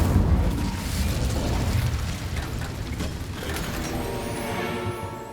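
The Incendio fire spell goes off in the game Hogwarts Legacy with a loud, low whooshing burst at the start. A rumbling blaze follows and fades, and a brighter shimmering tone rises near the end.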